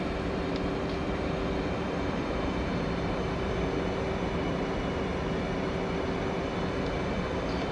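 A Hornet jet taking off gives a steady, loud, broadband engine roar that holds at an even level from start to finish, with no voices.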